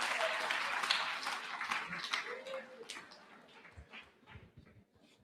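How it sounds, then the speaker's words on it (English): Audience applause at a high school alumni awards ceremony, a burst of clapping from a crowd that gradually thins and fades away. "Can we please applaud the men and women of law enforcement?"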